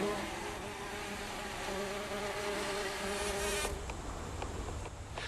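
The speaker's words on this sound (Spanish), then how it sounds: "se sujeta con las patas a las anteras, produciendo una vibración para liberar los granos de polen, emitiendo un zumbido característico" A worker bumblebee clings to a yellow tomato flower and vibrates its anthers, giving a continuous, close, high buzzing drone that shifts pitch partway through and carries on without any talk.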